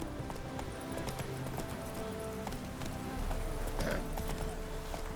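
Hooves of Roach, the horse in The Witcher 3: Wild Hunt, clip-clop in a steady trotting rhythm through the whole stretch at moderate loudness, with faint game ambience beneath and no talking.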